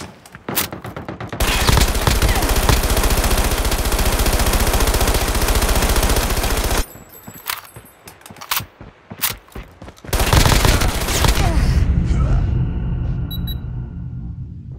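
Sustained bursts of rapid automatic gunfire from a weapon in COD Mobile, loud and continuous with a short break of scattered shots in the middle before another long burst, no speech.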